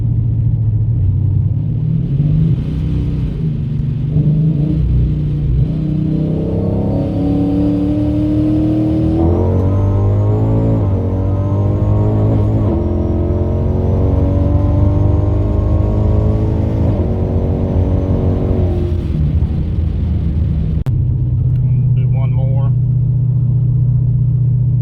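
A Procharged, built 392 Hemi Dodge Challenger roars through a wide-open-throttle run, its engine rumbling loud and close, then climbing in a sustained rising whine with supercharger whir before a gear change and easing off.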